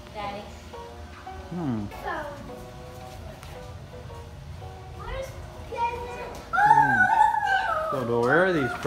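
A dog barks and whimpers at a child's seventh birthday party, its yelps rising and falling amid children's chatter and adult voices nearby.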